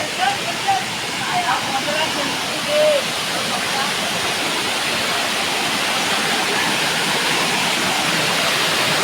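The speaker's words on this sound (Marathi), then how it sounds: "हा बघा धबधबा." Loud, steady roar of a forest waterfall over a cliff, a continuous rushing wash of water, with a few brief voices early on.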